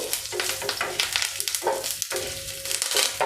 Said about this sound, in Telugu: నెక్స్ట్ వచ్చేసి కొద్ది కరివేపాకండి దీన్ని కూడా కొద్దిగా అలా వేగనిద్దాము